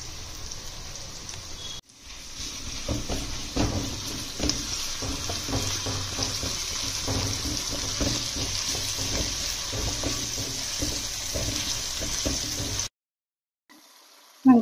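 Onions, ginger garlic paste and green chillies fry in a pan with a loud, continuous crackling sizzle, broken by scraping stirs, before cutting out near the end.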